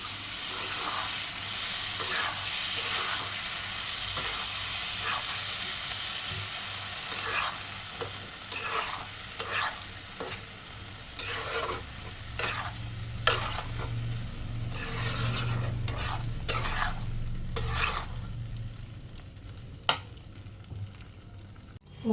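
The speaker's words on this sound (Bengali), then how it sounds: "দিয়ে সবগুলো মশলা একসাথে কষিয়ে নেবো" Spice paste sautéing in oil in a pan while cooking soybean muitha, with steady soft sizzling under repeated scraping and stirring strokes of a spatula, close and fairly quiet, no voices.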